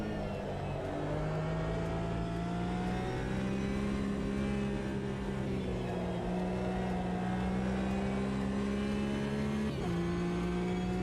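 A Caterham race car engine in the Automobilista 2 racing game drones and shifts pitch as it accelerates and eases off, a steady close engine note with gear-change dips.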